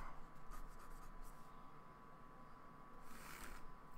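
A pencil sketching legs and a lower male torso on paper makes quiet, close scratching strokes in short bursts, with a faint steady background hum.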